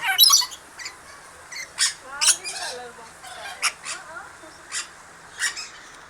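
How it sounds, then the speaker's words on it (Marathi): Sharp, piercing squawks from a nearby parrot, repeated every second or so, with some quieter chatter between calls. "तर पोपट बघा पोपट मस्त ना"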